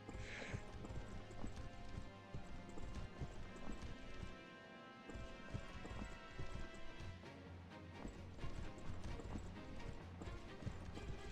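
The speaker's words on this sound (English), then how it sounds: "Now all these horses moving at once." Horses' hooves clip-clop steadily in the Fire Emblem Path of Radiance video game as several mounted units move together, a dense continuous clatter layered over game music for the whole stretch.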